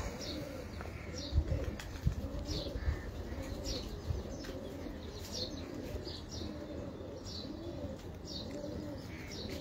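Racing pigeons at a loft in Karachi during a tournament flight, with repeated soft cooing calls and occasional wing flutters over a constant low background rumble, moderately near.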